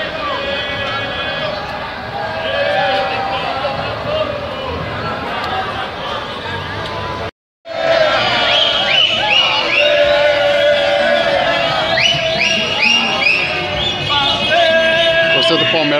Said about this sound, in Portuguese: Aqui é a festa da torcida do Palmeiras.